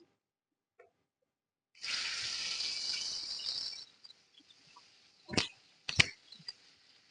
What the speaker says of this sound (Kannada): ಈಗ ಎಣ್ಣೆ ಕಾದ್ಮೇಲೆ ನಾನು ಇದಕ್ಕೆ ಈರುಳ್ಳಿನ ಹಾಕ್ತಾ ಇದ್ದೀನಿ